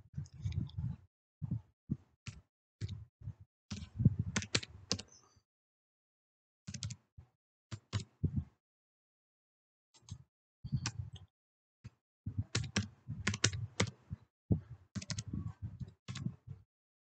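Someone types a new password on a computer keyboard, with bursts of crisp, close key clicks separated by short pauses, in a quiet room with no talking.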